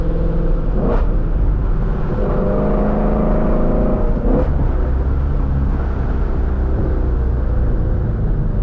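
A 2016 Ford Mustang GT350 on a mountain road, its exhaust a steady loud rumble throughout with a couple of brief rising revs, recorded close from inside the car, no talking.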